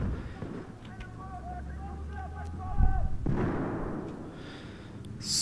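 A grenade launcher blast in Battlefield 4 multiplayer, a heavy thumping explosion near the middle that rumbles out, with game effects and tones around it and no talk over it.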